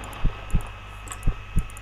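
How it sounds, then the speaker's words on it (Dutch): Irregular heartbeat of a person, four deep, close thumps paired unevenly with uneven gaps between them over a low steady hum, no voices. "Nou, je hebt al heel onregelmatige hartslag."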